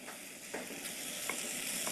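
Beef cubes browning in a hot pan give off a steady, close sizzle, broken by a few soft stirring scrapes, with no talking.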